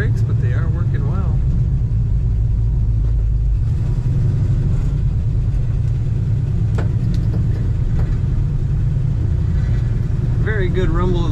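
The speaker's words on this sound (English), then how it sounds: "Very good rumble of this car, nice exhaust sound." A 1964 Chevrolet El Camino rumbles along while driving, its exhaust a steady, loud low drone with a shift in pitch partway through; a voice is heard faintly at moments.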